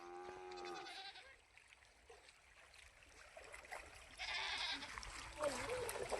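A young goat gives a quavering bleat at the start, then people talk outdoors over faint running-water noise.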